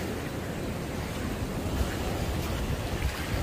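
Waves wash ashore at Pantai Batu Barak beach in Bali in a steady, full roar of surf mixed with gusty wind buffeting, continuous and fairly loud.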